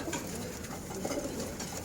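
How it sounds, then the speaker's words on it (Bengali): Pigeons, including army and gola breeds kept for sale, coo softly amid a dense, steady wash of loft noise, with low murmuring calls running throughout. "গোলা কবুতর এক জোড়া পাখি আর রইল আপনার এই আর্মি কবুতর"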